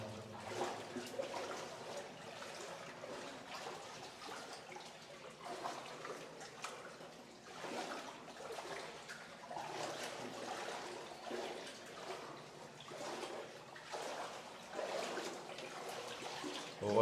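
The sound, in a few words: water trickling through Hezekiah's rock tunnel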